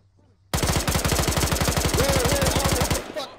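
A video game gun fires in a rapid full-auto burst lasting about two and a half seconds, loud and close, with sharp evenly spaced shots and a brief tail as it stops.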